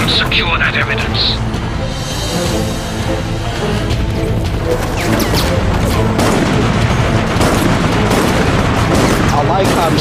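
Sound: gunfire from the video game Resident Evil Operation Raccoon City

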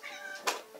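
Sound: cat meowing

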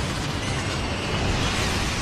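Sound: grenade explosions in video game Vanquish

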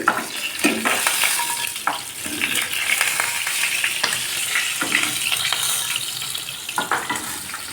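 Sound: fish frying crisp in oil

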